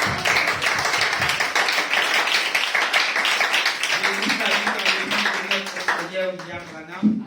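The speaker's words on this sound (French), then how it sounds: "Acclamons très fort." A church congregation applauds loudly, with dense, rhythmic clapping that continues for several seconds before a voice begins speaking over the fading claps.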